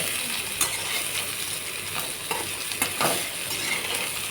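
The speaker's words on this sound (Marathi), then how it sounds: "आता हे दोडका परतून घेणार आहे। दोडका छान लालसर होईपर्यंत आणि थोडंसं मऊसर होईपर्यंत छान परतून" Chopped ridge gourd sautéing in oil in a pan, a soft continuous sizzle with a few light scrapes and clicks of stirring, close and steady throughout.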